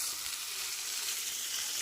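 Green chillies tempering in hot oil for a fish-head and taro stem curry, giving a steady, close, dense sizzle that holds evenly throughout with no voices.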